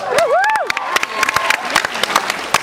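Applause and cheering from a convention audience at a Supernatural panel at San Diego Comic-Con 2008, a loud crowd with sharp claps and whoops, with voices rising through it.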